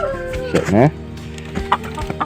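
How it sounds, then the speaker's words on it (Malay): Farm chickens clucking close by with a drawn-out wavering squawk, amid short clucks and some background rustle. "Manja sikit ayam ni."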